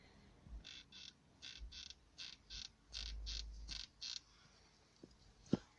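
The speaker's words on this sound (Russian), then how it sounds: "Отъездили где-то 70 тысяч и начало скрипеть сиденье. Вот скрип такой, послушайте." The driver's seat of a 2014 Mitsubishi Outlander 3 with about 70,000 km on it creaks under shifting weight, about ten short squeaky creaks in a steady rocking rhythm, close up and fairly quiet, then a soft knock.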